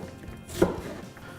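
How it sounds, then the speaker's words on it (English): A single knife cut through a red onion on a board, one short crisp chop close by in a quiet kitchen, with no voices. "Another cut like this, and you just cut it."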